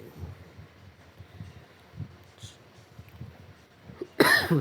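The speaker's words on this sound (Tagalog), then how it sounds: "Kasi inuubo tayo." A single loud, harsh cough bursts out near the end after a stretch of quiet, low room rumble during a leg-day gym workout.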